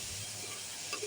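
Onion, garlic and ginger frying in hot oil, a dense, steady sizzle and hiss held close and unbroken, with faint stirring near the end.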